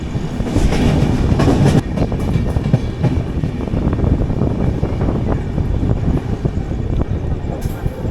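The Kochuveli Humsafar Express rolls into Krishnarajapuram railway station with a loud, close rumble of wheels, a steady clickety-clack over the rails and gusts of wind noise, while a voice murmurs faintly beneath.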